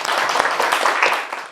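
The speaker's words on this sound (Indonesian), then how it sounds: "Oke, tepuk tangan dulu." Classroom of children clapping hands together in a short burst, dense overlapping claps filling the space at steady loudness before tapering off at the end.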